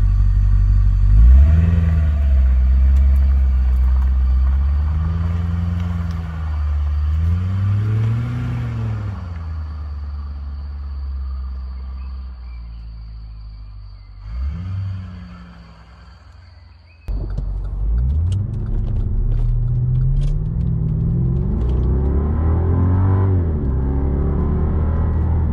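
A 2007 Cadillac STS4 engine runs nearby, rising and falling through several revs. It settles briefly, then returns to a louder, steady running note with no talk.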